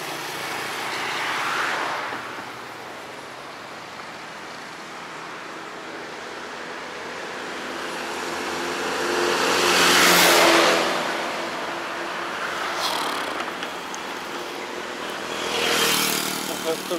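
Street traffic on a crowded road in Penang, with cars and motorcycles whooshing past in several loud passes that swell and fade, over a constant roar of engines and a distant hum.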